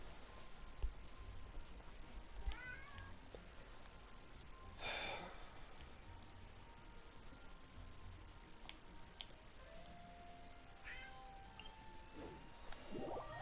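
A hungry pet cat meows in short, soft cries, spaced apart over faint steady background noise.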